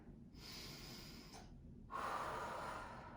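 Soft, close breaths during a yoga low lunge: a long steady inhale followed after a brief pause by a slightly stronger exhale, faint and unaccompanied by talk.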